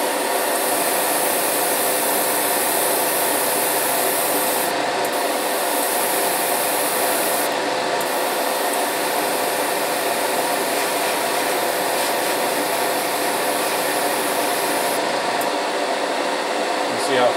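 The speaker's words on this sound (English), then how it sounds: "Push down, you're just gonna get straight air coming out. You can actually use that to help dry that process if you want it." An airbrush blows straight air over painted model figures, a continuous hissing rush that holds steady for the whole stretch with brief dips in its high edge.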